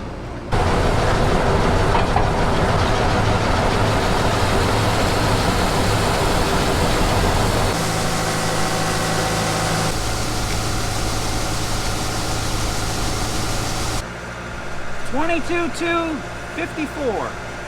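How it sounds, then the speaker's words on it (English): A grain truck unloads corn into a bin through an auger, making a loud, continuous mechanical roar and rattle that shifts in tone partway through, with a person talking near the end. "So we're gonna get our truck unloaded into the bin and then we'll be ready to go."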